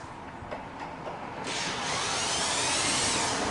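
A power drill drives screws into a track-saw cutting table, giving a short whir, then a louder sustained whine that fills the second half, close and alone.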